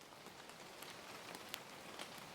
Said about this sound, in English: Rain was steady today.